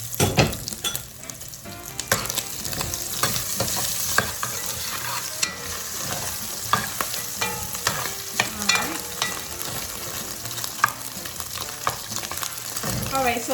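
Salchichon sausage fries in a covered pan on the stove over medium-high heat, giving a continuous, lively sizzle and crackle that stays fairly loud throughout. No voices are heard.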